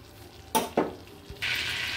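Bay leaves and whole cumin seeds drop into hot melted butter in a pan with two quick thuds, then a steady, close hiss of sizzling sets in and holds.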